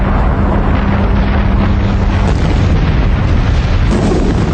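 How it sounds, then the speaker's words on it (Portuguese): Hydrogen bomb explosion sound effect: a loud, sustained, wind-buffeted roar of rumbling blast noise filling the whole stretch, with no voices. "Uma bomba de hidrogênio, a arma mais letal que existe."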